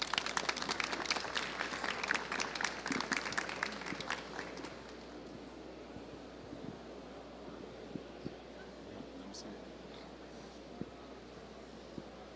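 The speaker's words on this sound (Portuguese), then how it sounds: "Professor Wagner, aplausos para receber nosso querido professor" Audience applause rings out loudly for about four seconds, then fades to scattered claps and room murmur.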